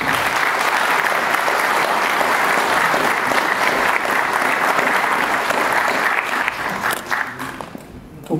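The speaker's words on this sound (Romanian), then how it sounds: "Vă rog să le aplaudăm înainte de a intra în scenă." Sustained loud applause from an audience fills a hall at the launch of a political movement, steady clapping that gradually thins and fades toward the end.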